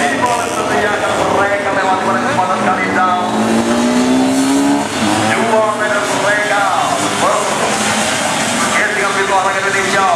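Vespa scooters race on a track in an open-class scooter event, their engines whining and rising in pitch as they pass in overlapping sweeps, loud and continuous under a commentator's voice.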